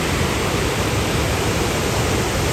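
Adyanpara waterfall in Malappuram, swollen with high water, roars as a dense, steady rush of falling water, loud and unbroken throughout with no voices.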